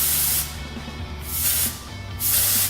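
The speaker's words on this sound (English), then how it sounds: "I'm spraying it pretty close to the hair because I want a lot of definition" Three bursts of hairspray hiss at close range onto hair, each lasting about a second with short pauses between them, over a low background hum.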